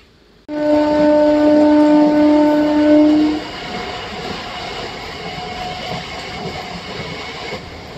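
A Bhimavaram–Vijayawada MEMU train pulls into the small Nidamanuru halt station. A loud horn sounds for about three seconds, then a steady rolling rumble carries on alone.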